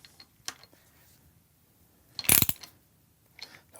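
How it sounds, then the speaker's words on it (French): A torque wrench tightening to 17 Nm gives a few faint clicks, then a louder burst of rapid ratcheting, and more light clicks after it. "Et là, on passe au serrage."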